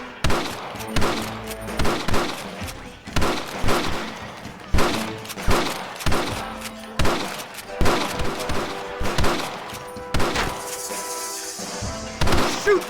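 Repeated gunfire in a Red Dead Redemption PC shootout, loud shots cracking at a steady rhythm of about one per second, with bursts and thuds layered over background game sound.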